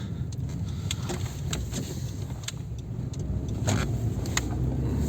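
A Honda CR-V on winter tires driving through snow, a low steady engine and tire rumble from inside the cabin, growing slightly louder, with light clicks and creaks over it.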